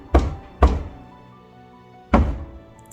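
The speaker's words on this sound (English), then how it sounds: "Do you hear that construction?" Construction work nearby produces three heavy, booming thuds, two in quick succession and a third after a pause of over a second, each with a short resonant decay against a quiet background.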